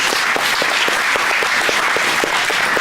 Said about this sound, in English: One more time, give our contestants a round of applause.